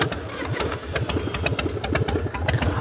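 A 2002 Harley-Davidson Fat Boy motorcycle engine runs steadily at close range, its low, loping V-twin idle thumping in an uneven rhythm throughout, with no talking.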